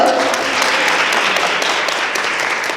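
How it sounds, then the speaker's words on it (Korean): An audience at a taekwondo survival tournament applauds a final contestant, a brief burst of brisk clapping that slowly tapers, with a voice faintly heard at the start. "박수 부탁드립니다."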